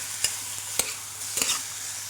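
Garlic and chili sizzle in a frying pan while a utensil stirs them, with a few sharp scraping strokes over a steady close sizzle.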